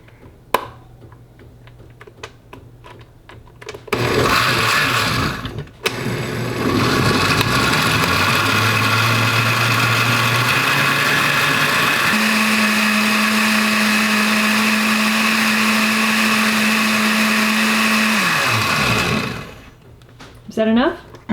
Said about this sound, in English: And she's going to blend that.